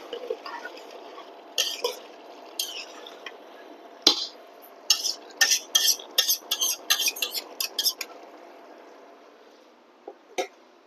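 Chicken curry with bean seeds being stirred in a pan, a spoon clinking and scraping against the pan in a run of short, separate knocks close by, with no talk.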